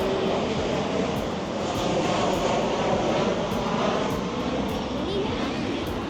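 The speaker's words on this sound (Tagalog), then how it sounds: "Walang tao. Puro aeroplano." Aircraft engines drone steadily at San Jose airport, a broad continuous roar that stays fairly constant throughout with no clear pauses.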